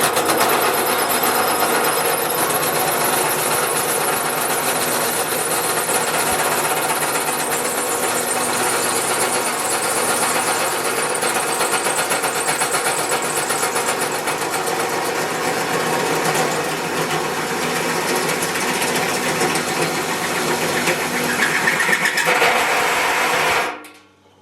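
A hole saw powered from a running lathe cuts a hole for a fuel filler cap in a workshop, giving a loud, steady grinding whine that holds almost unbroken for over twenty seconds before stopping abruptly.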